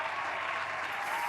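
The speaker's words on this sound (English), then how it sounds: "Can we get a round of applause" Steady applause from a small studio audience at a sneaker podcast taping, a dense even patter of clapping filling the whole moment at moderate level with no voices over it.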